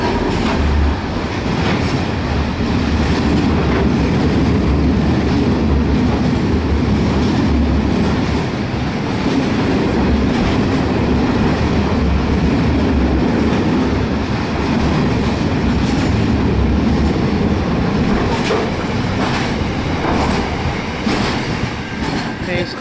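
A Pacific National freight train, G528, rolls steadily past South Geelong Station, Australia, with a loud continuous rumble and rhythmic clattering of wheels on the rails, close by the whole time.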